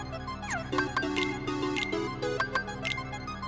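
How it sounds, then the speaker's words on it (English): Original PlayStation 2 Kingdom Hearts 2 game music plays, bright synthetic tones with quick repeated notes and sweeping pitch glides, layered over a steady low electronic hum. "Here's a song that's a zillion times better in OG than HD, because it's meant to sound like this."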